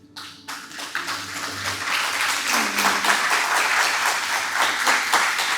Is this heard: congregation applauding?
yes